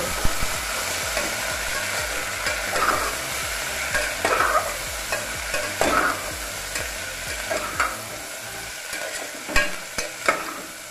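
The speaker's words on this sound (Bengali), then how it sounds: "কেটে রাখা আলুগুলোকে দিয়ে ফ্রাই করে নেব" Washed potatoes cut with their peel on fry in a pan for a sweet-shop style kochuri potato curry, a continuous close sizzle broken by repeated scraping stirs every second or two.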